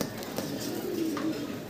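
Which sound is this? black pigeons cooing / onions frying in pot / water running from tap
black pigeons cooing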